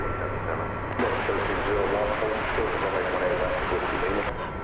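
A jet airliner's engine spools up at DFW Airport, a broad steady roar heard at a distance, with someone talking over it and a brief click near the start.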